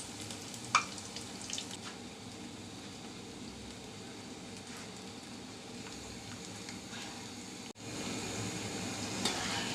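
Batter-coated cauliflower pakoras frying in oil, a faint, steady low sizzle throughout with a couple of soft clicks, growing slightly louder near the end.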